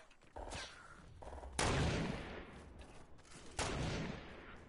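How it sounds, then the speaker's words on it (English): Nearby gunfire in Fortnite, a few loud sharp shots and bursts, each ringing out into a long reverberant decay, with no talking. "I'm not sure where that shot was from"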